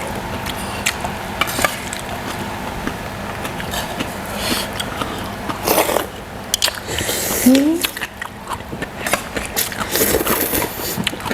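Crunchy chewing and biting on crisp Luang Prabang-style papaya salad with fresh shrimp, close to the mic, with someone talking over it and a brief squeak in the middle.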